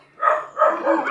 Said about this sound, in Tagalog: Parang tuwang-tuwa sa atin yung mga aso ah.